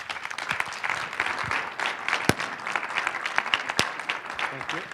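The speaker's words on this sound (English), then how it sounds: "Give them a round of applause" An audience at a sales training event bursts into applause, a dense wash of many hands clapping for several seconds with a few sharp louder claps standing out and a voice speaking over it.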